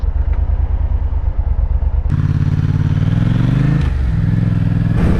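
A motorcycle practicing corners in an empty industrial area, its engine idling with a lumpy, pulsing rumble before revving up sharply, then rising and falling in pitch as it accelerates, close and loud.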